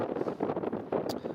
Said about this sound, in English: it is a bit windy, folks, so it's not going to be the easiest to hear me